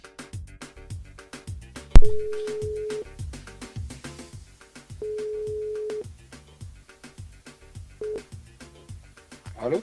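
A phone call being placed to a listener live on a radio show: three long ringback tones, the last cut short, sounding over a steady rhythmic music bed.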